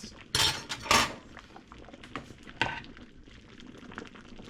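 A spoon clinks and scrapes against a saucepan of split pea and pumpkin soup, with two sharp metallic knocks early, then softer scattered taps and stirring noises close by.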